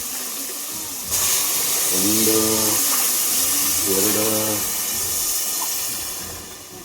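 Water is poured into drinking glasses with a steady, close rushing splash that begins after about a second and runs to the end, while a voice speaks over it.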